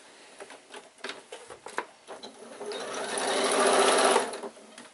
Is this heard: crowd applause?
no